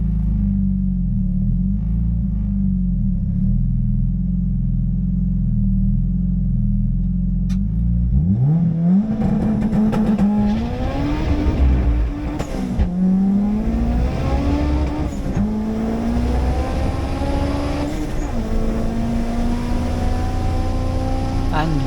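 A supercharged 450-horsepower Honda Civic drag racing: a steady loud idle rumble, then an abrupt hard launch with the engine screaming up through rising revs and quick gear changes, loud and close throughout.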